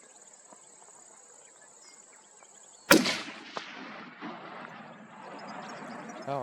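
One sharp, loud rifle shot is fired at a red stag in New Zealand alpine country, cracking suddenly over a steady background of insect chirping, with a brief echoing tail after it.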